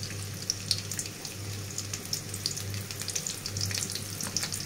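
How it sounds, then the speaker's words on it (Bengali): Chopped onion fries in oil in a wok, a soft, continuous hiss with scattered crackles over a low steady hum, moderately quiet and free of voices for nearly five seconds. "কড়াইতে তেল দিয়ে নিলাম, এরপর দিয়ে দিলাম পেঁয়াজ কুচি"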